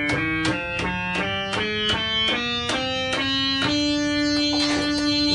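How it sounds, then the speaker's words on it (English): Musical scale on a keyboard using dynamic tonality: about a dozen clear, evenly spaced synth notes step upward one after another at a steady pace, each bright and sustained, played alone without any voice. "So the entire scale sounds like this."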